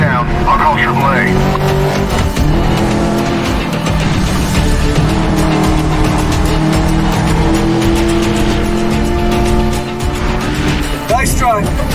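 Car racing at speed with tires squealing in the video game Medal of Honor Warfighter, a loud continuous engine roar with skidding under game dialogue and voices.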